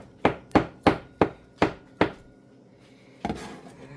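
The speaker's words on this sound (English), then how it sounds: "So a lot of chopping for salads" Knife chopping vegetables for potato salad on a cutting board, six sharp evenly spaced chops close up, then a pause and one final softer knock with a short scrape.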